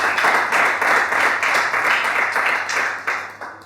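Audience applause at a live comedy show, loud and close, a dense crowd of clapping that holds steady and then begins to thin and fade toward the end.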